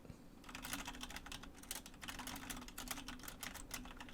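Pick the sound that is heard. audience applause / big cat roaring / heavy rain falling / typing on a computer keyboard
typing on a computer keyboard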